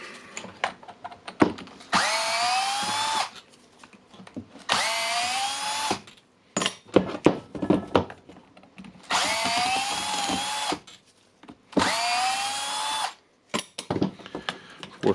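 A faulty Milwaukee impact wrench with a stuck, damaged motor whirs in loud bursts of about two seconds each, four longer runs separated by pauses and short blips, with no hammering evident.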